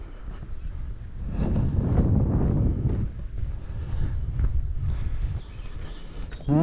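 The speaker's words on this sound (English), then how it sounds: "it sort of keeps getting a bit blustery and then calms right down" Blustery wind buffets a microphone on an exposed hillside on the climb to Shutlingsloe, a low rumbling roar that swells into stronger gusts and eases off again, with no one speaking.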